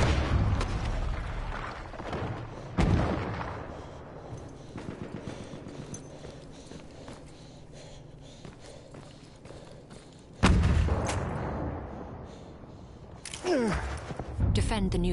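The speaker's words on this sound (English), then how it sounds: "The enemies are being halted by our artillery barrage." Battlefield 1 artillery barrage on a sandy battlefield, with heavy booming impacts and thuds landing at intervals and their rumbling tails decaying between blasts, under intermittent game voices.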